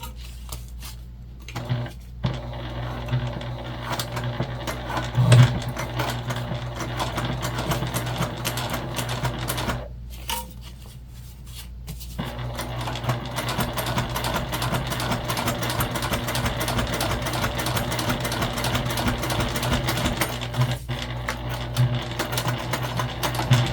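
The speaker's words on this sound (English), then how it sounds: "we're only top stitching where the zipper is" Nearby, a sewing machine top stitches along the zipper of a fabric pouch, whirring loudly and steadily in long runs broken by two short pauses, with no voices over it.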